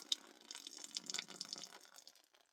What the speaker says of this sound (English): Go ahead and let that little bit of water run out.